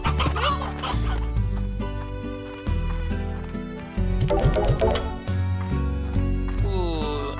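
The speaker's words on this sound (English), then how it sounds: "it does look like we have a pretty good amount of chickens right now" Chickens cluck in the video game Slime Rancher, with repeated clucks and squawks over a loud, layered musical soundtrack of steady tones.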